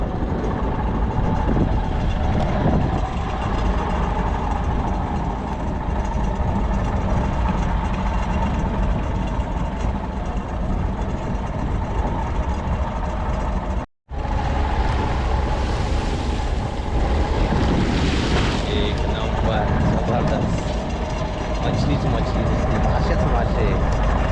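A fishing boat engine at sea drones steadily and loudly throughout, briefly cutting out once near the middle before resuming, with broadband rumble over water.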